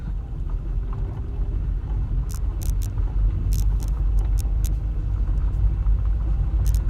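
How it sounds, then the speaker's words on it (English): A Volkswagen Jetta brakes on a gravel driveway: a steady low road-and-engine rumble runs throughout, with short crunchy bursts of gravel scattered through the middle. No one speaks. "The car brakes well, as you will see in 3, 2, 1."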